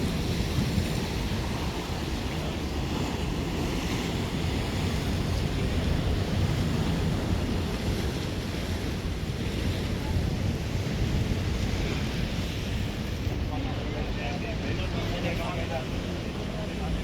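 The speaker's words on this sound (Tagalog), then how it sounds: "maalon, mahangin" Seaside wind and surf at a beach, a continuous broadband roar of gusts and breaking waves that stays steady and loud throughout, with no distinct speech.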